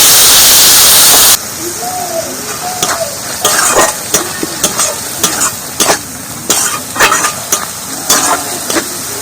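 Spice paste with chili powder and a splash of water fries and sizzles in a pan for a Bengali egg curry, with scraping stir strokes ticking through steady crackle after a louder initial hiss, under brief faint voice.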